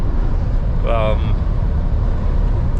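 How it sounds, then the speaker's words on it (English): Mercedes-Benz truck cab rolling along a road home from Davos, Switzerland, with a loud, steady broadband drone of engine and road noise throughout and a brief tonal whine near the middle. "I get the impression this truck is pretty loud."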